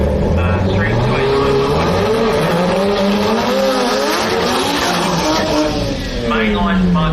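A modified 10.5 drag racing car runs down the strip at a Brisbane jamboree finals, its loud engine roar sweeping through shifting pitches with tire noise, continuous for several seconds under a commentator's voice and crowd din.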